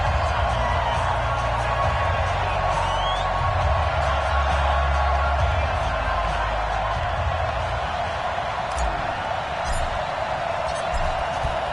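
Stadium crowd noise from an NFL football video game, Oakland Raiders against Tennessee Titans before kickoff: a steady, loud, dense roar of cheering fans with low rumble underneath, continuous throughout.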